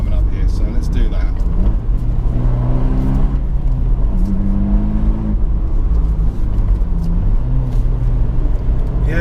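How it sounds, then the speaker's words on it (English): An Abarth 124 Spider GT fitted with a Monza exhaust revs hard through twisty corners, its engine note rising and falling in several sweeping pulls, loud and close, with someone talking over it. "Coupled with the Monza exhaust that you're hearing"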